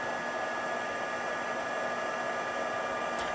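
A heat tool blows hot air over a card in a pigment-powder craft setting, giving a steady, close, even roar with a constant hum and no breaks.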